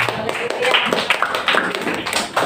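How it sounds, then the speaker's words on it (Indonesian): A church congregation applauds with steady, dense clapping, while voices are heard over it. "Kita beri tepuk tangan dulu saudara."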